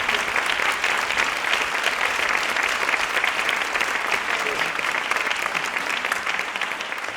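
Sustained audience applause for actress Gloria Muñoz at a colloquium, a dense, steady clapping from a crowd holding even for about seven seconds.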